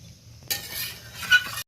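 After a quiet start, a spoon scrapes and swishes through a pot of vegetable curry (morich jhol) once the lid is lifted, with a sharp clink of metal partway through. Close and moderately loud, with no talking.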